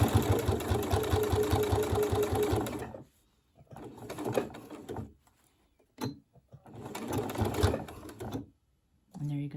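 Sewing machine stitching a wallet: a fast rhythmic mechanical whir of stitching for a few seconds, then short bursts of a few stitches at a time with pauses between.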